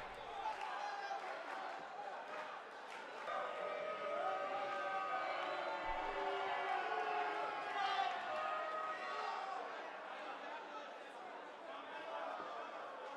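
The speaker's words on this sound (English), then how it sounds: "We have crowd in the background." Steady crowd murmur and chatter from the audience of a wrestling video game, a low continuous wash running beneath a man's speech for the whole stretch.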